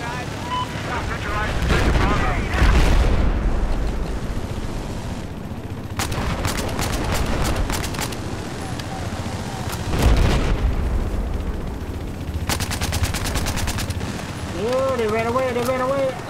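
Machine gun fire in Rainbow Six Siege comes as sharp, rapid bursts at two points amid booming blasts and general battle noise, with voices talking over much of it.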